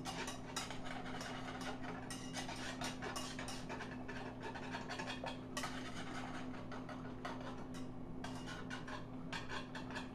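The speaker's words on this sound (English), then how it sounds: "And you just keep whisking this until it comes to a boil." A whisk scrapes and clinks steadily against a pot as sauce for chicken pot pie is stirred toward a boil, quick repetitive metallic strokes over a low steady hum.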